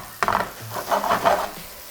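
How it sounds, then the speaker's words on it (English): Chicken sauce with oregano and spices sizzles and pops in a pan, bursts of crackling frying heard close up with no talking. "you see everything popping away, you can hear it"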